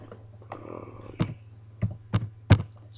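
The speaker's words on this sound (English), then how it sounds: "Sorry, I'm typing with one hand here." A few scattered key taps on a computer keyboard, typed with one hand in quiet irregular clicks, with a short soft rustle early on.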